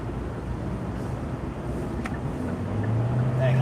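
Car driving along a road with a big truck following close behind during a merge, a steady low rumble of road and engine noise with some wind, rising slightly near the end.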